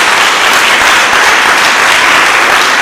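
A church congregation bursts into loud, sustained applause, dense clapping filling the room without a break.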